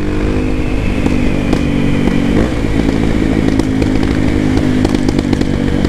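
Honda XR Tornado motorcycle fitted with a Belparts Classic exhaust, the single-cylinder engine running loud and close with a steady rough drone and scattered sharp popping crackles throughout, no talk.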